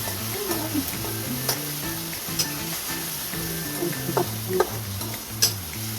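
Paneer bhurji with tomatoes sizzles in a pan while a spoon stirs it, giving scattered scraping clicks over a steady frying hiss with a low tonal hum underneath.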